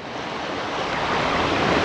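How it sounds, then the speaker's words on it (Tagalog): Strong ocean waves crash and surge in a continuous heavy roar that swells slightly louder toward the end, mixed with some wind buffeting, with no voices. "Ang lakas ng alon."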